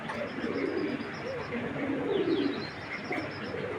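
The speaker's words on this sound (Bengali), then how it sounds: "দেখেন কবুতরগুলো জাস্ট কতটা অ্যাক্টিভ" Racing pigeons coo in a loft, with low, rolling coos repeating and overlapping at moderate volume alongside a few faint chirps.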